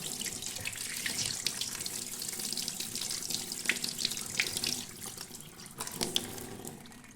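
Steady running water from a tap splashes continuously into a sink while goat brain is washed, with small clinks and drips scattered through, fairly close and moderately loud.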